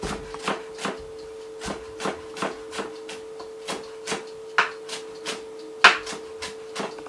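Knife dicing a celery stalk finely on a cutting board, a steady series of crisp chopping taps at a brisk, even rhythm, close and moderately quiet with no talking.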